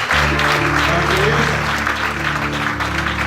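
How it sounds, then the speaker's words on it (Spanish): Congregation applause in a church service, a dense continuous clapping wash over sustained organ or keyboard tones and low musical notes, loud and unbroken. "démosle un aplauso al que todo lo merece"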